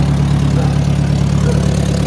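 A Ferguson TO-35 tractor engine idles steadily up close, a low, even rumble that holds without change throughout.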